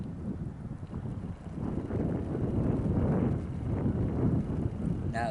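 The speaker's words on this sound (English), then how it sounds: "Oh, but now the winds come." Strong outdoor wind buffets the microphone in a steady, rushing roar that swells and stays loud throughout, with faint handling noises near a small camping stove.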